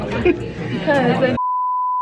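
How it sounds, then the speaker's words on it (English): Steady censor beep tone, loud and continuous, after a stretch of chatter and laughter that cuts off abruptly into the single sustained pure tone. "We're gonna block it out. Just beep, beep, beep, beep, beep, beep."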